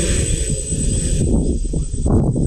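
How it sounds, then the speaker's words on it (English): Small, cheap consumer drone lifting off and hovering outdoors, a steady broadband whirring buzz from its rotors holding close and loud throughout with no talk. "Let's get the drone up there."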